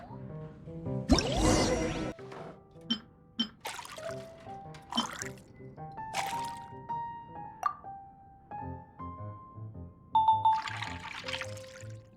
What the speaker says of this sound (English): For her tummy's sake, let's water it down before serving it to her